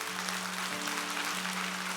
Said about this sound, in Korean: 이런 분들 존경과 사랑의 박수를 좀 드리고 싶어요.